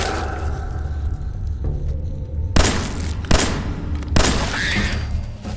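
Gunfire in Fallout 4 against mole rats: a steady rumble of combat that breaks into three sharp, loud shot bursts near the end, with no talking.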